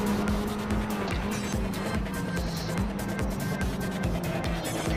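A Tatuus Formula race car roars at high revs in the Assetto Corsa racing game, its engine note droning steadily with tire squeal over it, loud and close throughout.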